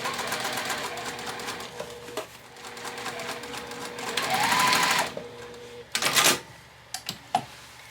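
A sewing machine runs in short bursts while stitching the exterior of a clutch bag, its rapid mechanical clatter close and clear, with brief pauses and a few sharp clicks near the end.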